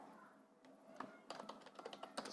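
Typing on a computer keyboard while working in Excel, a quiet scatter of irregular key clicks close by that grows busier toward the end.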